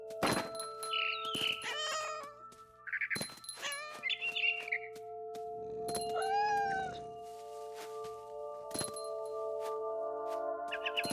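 A cat meows repeatedly in the video game What Remains of Edith Finch, several distinct rising and falling cries spaced apart, alongside faint clinks and thunks over a steady low background hum.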